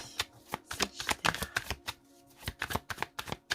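Deck of tarot cards being cut and handled close up, a rapid series of crisp papery flicks and slaps in uneven bursts, quiet and alone without talking.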